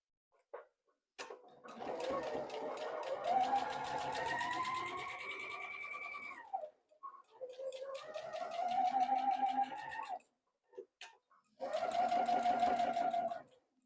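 A sewing machine runs in three bursts as it stitches back over a seam line, its rapid needle chatter whirring steadily between short pauses, close and clear.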